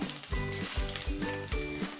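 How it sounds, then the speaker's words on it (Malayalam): Raw rice and mustard seeds crackle and sizzle in hot oil for a vegetable thoran, with sharp rhythmic pops in quick bursts against a continuous frying hiss, close and clear. "അരിയെല്ലാം നന്നായിട്ടൊന്ന് പൊട്ടി വന്നിട്ടുണ്ട് കേട്ടോ."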